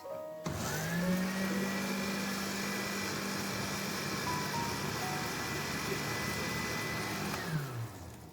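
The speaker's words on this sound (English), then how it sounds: "So now I'm gonna try and grind it." A blender grinds leaves for homemade hair oil, a steady motor whine that starts suddenly and runs for about seven seconds before winding down, close and loud with no talk.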